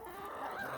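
Hens clucking inside a greenhouse while pecking in the dirt, a soft, faint, brief burst of low murmuring clucks at close range, no speech.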